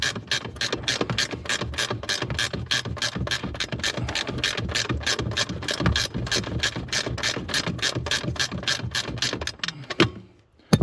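A hand ratchet clicks rapidly and steadily while tightening a bolt during a steering sensor replacement on a 2012 Chevrolet Malibu, a long run of close, even clicks that stops abruptly near the end.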